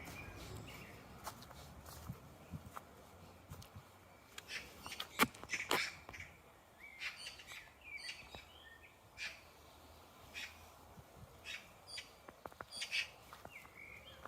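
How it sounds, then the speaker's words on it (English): Wild birds squawk and chirp in a spring woodland of bluebells, wild garlic and ferns, with scattered calls near and far over quiet ground noise and a few soft footsteps. "Loads of birds in here."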